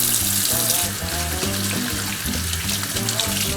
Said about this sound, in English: Let's wash our hands first.